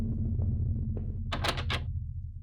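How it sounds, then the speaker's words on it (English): A locked basement door rattles in a horror adventure game: a short cluster of sharp, knocking jolts over a steady low hum, with no talk. "The door to the basement, it was locked."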